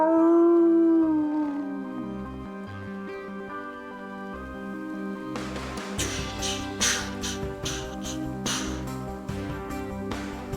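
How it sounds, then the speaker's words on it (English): A dog howls in the Sword & Sworcery video game, one long wavering howl that slides downward. Layered game music and percussive hits follow and carry on to the end. "There's the doggy."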